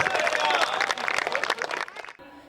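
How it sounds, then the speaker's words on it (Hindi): Audience applause at a Hindi comedy poetry recital, a brief burst of many hands clapping together that thins out and stops within a couple of seconds. "तालियां बजाइए।"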